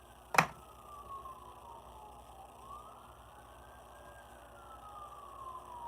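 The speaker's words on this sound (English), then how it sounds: "Love those sirens outside." An emergency vehicle siren rises and falls faintly from outside, a long wailing sweep sustained in the distance, preceded by a brief sharp knock.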